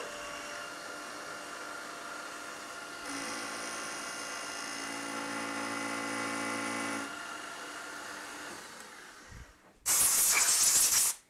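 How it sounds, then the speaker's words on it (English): A milling machine at 3000 RPM cuts stainless steel with a 4-flute carbide end mill, making a steady high whining hiss that rises for a few seconds. It ends with a loud, bright burst of spray. "Goes on parallel, 3000 RPM, 4-flute carbide end mill."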